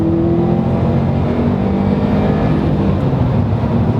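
A 2015 Subaru STI boxer engine heard from inside the moving car, a steady low drone with road and wind noise that stays even and fairly loud across the whole stretch, without any speech.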